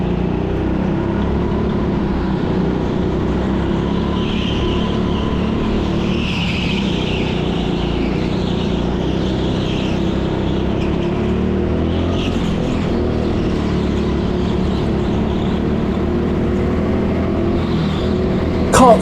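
Go-karts race around an indoor track during a public session, their engines a constant loud, buzzing whine filling the space, with faint tyre squeal over a steady roar.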